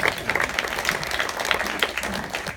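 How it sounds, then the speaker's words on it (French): An audience at a regional council swearing-in ceremony applauds, a steady patter of many hands clapping at moderate distance, with no one speaking over it. "On peut déjà les applaudir."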